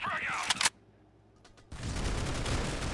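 Sharp bursts of gunfire from the shooter game Critical Ops during a tournament match, a rapid volley, a brief lull with a couple of faint shots, then a sustained loud barrage.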